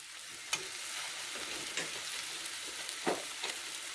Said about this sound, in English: So dumplings are frying away